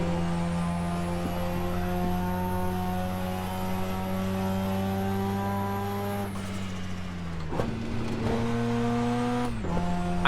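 Mazda RX7 rotary engine in Assetto Corsa at the Nurburgring, holding a steady high-pitched whine before dropping sharply on a downshift to fourth gear, with a second quick dip and blip near the end.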